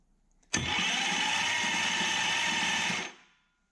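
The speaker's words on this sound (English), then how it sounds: "I'm going to crank the engine over with the starter." A 1973 Dodge Dart engine cranking on its starter with a weak battery: a loud, steady mechanical whir starts abruptly, holds evenly for about two and a half seconds, then winds down and stops, heard close up.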